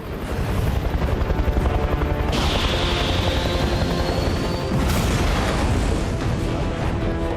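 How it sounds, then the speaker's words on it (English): An MH-53 helicopter in a movie scene, its rotor thudding loud and steady throughout with a rising turbine whine partway through, heavy and close with no talk. "Target is now an MH-53 helicopter."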